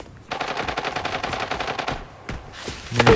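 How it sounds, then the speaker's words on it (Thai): Rapid bursts of automatic gunfire in the video game Arena Breakout rattle steadily for about two seconds, then a single shot and a louder crack near the end. "มีเสียงปืนอยู่ด้านบนนะ"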